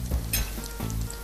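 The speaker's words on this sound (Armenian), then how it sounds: "Թույլ կրակի վրա մի փոքր տապակում ենք, որից հետո դրան լցնում ենք ջուր" Food frying gently in a pan over low heat, a soft steady sizzle with a brief brighter crackle and a faint clink of stirring, close and alone.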